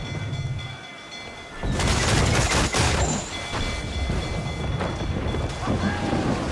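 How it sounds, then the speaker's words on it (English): Mortar fire in the video game Assassin's Creed Freedom Cry comes as a loud burst of rumbling blasts in the middle, set against wind-like ambience and faint voices. "Mortars are there!"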